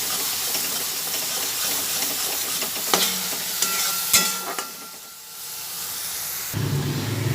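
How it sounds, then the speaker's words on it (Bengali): Spices and sour curd are stirred together in a frying pan for a potato and pointed gourd kalia, with a continuous close sizzle, a few utensil clicks and a brief quieter dip before the frying swells again. "ভালোভাবে সব মিশিয়ে মশলার টক দইটা একসঙ্গে মিশিয়ে দিচ্ছি"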